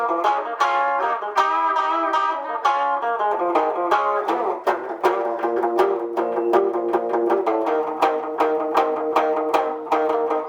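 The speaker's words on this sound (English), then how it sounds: "you hear those double stops" An electric guitar, an ES-335 copy, plays twangy double stops in a quick, bouncy rock-and-roll rhythm, bright and clear with no voices.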